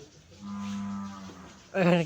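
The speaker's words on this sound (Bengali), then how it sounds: "কোথাও যেন একটা গরু আছে, গরু পাইতেছে শব্দ" A cow moos twice at a village home in Chandpur, a long steady low call followed by a shorter, louder, brighter one, fairly close with no talk.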